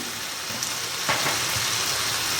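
Mutton fries with spices in a pan with a continuous, moderately loud sizzle and a brief stir partway through.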